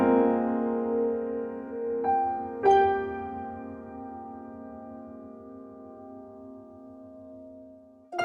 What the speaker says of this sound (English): Instead of the main shrine theme, we instead hear this